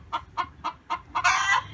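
Chickens cluck in a run of five short, evenly spaced clucks, then give a louder, drawn-out squawk close by.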